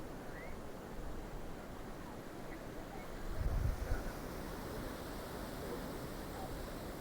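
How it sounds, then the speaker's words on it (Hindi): Sea waves washing onto the shore at Mubarak Village, Karachi, make a continuous broad rushing roar that swells briefly midway before settling back to a steady wash. "ये समुंदर की लहरों से आता हुआ शोर उन लोगों को भी पसंद है जो खामोशी पसंद करते हैं।"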